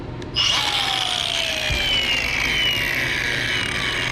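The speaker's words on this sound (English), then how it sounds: "Even though you've turned the grinder off, it's still somewhat dangerous until this wheel stops turning" An angle grinder switches on with a sharp rising whine, then its wheel spins down slowly, the pitch falling steadily over several seconds, loud and close with no talking.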